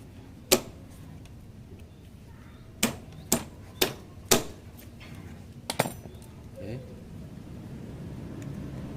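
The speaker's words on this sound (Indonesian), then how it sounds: "Kita gunakan obeng ketok biar lebih mudah ya bro." Impact screwdriver struck with a hammer while working on a Honda Mega Pro motorcycle, about six or seven sharp metallic blows at irregular intervals, with quiet talk and workshop sounds between them.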